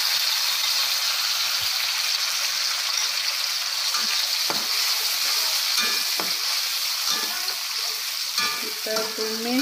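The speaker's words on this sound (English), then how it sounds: "Kita tumis sampai pecah minyak." Chili blend stirred into wilted, yellowed onions for sambal sizzles steadily in hot oil in a pan, a continuous close frying hiss broken by occasional scrapes and clinks of a stirring utensil.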